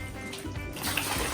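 Very hot water runs and splashes steadily into a basin to submerge fabric for dyeing, a brief close rushing stream that grows slightly louder toward the end, with no speech.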